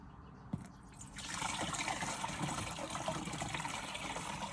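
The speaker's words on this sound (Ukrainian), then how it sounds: "Так, зараз вилю водичку" Water pours out of a container in a soft, continuous splashing trickle that starts after a brief quiet moment and carries on steadily at low volume.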